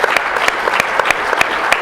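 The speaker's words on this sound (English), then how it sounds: "Everybody give Larry Herr a big round of applause." A room of attendees at a USA Swimming event gives a big round of applause, loud, close and dense clapping with a few sharper individual claps standing out in the steady roar.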